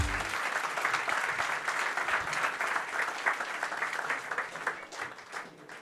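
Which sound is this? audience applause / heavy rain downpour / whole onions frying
audience applause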